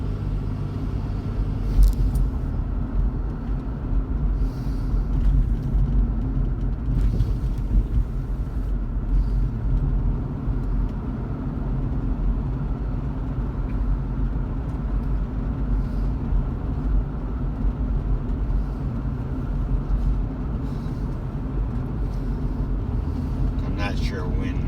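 A car rolls along an old Kentucky country road, a steady low interior rumble of engine and tires over rough pavement lasting the whole stretch, with a few faint knocks and rattles.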